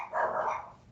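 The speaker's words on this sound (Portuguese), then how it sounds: "Tá muito interferente o barulho dos cachorros?" A dog gives a single short bark close by, a sharp mid-pitched yelp that fades quickly, with no talking.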